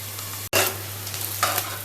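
Chopped onions sizzle steadily in a hot pan after a brief clatter, with a constant low hum underneath and no talking.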